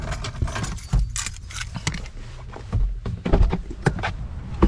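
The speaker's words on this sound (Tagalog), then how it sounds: "Susi." A bunch of car keys jangles and clinks in several loud, irregular bursts close to the mic, with some handling rustle between them.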